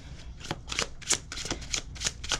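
A tarot deck is shuffled by hand in rapid, crisp riffling bursts, about eight quick papery flutters close up at low volume, with no voices.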